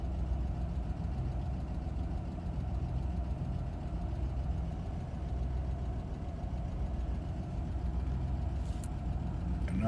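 A 1987 Toyota Land Cruiser FJ60 engine idles after a cold start with the choke pulled, a steady, close, rumbling low drone that holds even throughout, with a brief higher click near the end.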